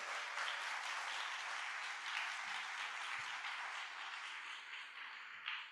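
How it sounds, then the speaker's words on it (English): A school audience gives a round of applause during a superintendent's back-to-school address, a steady wash of clapping from the crowd that holds at an even level throughout with a few louder bursts. "give yourself a round of applause for being here today."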